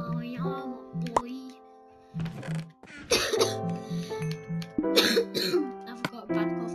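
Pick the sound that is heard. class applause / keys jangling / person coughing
person coughing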